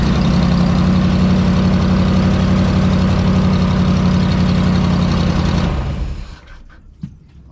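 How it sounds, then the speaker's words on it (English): The inboard engine of a 2006 Larson 186 boat idles loudly and steadily at close range after an idle screw adjustment, then shuts off and falls quiet, leaving a few faint knocks. "I'm just adjusting the idle screw. We'll see if it idles slower."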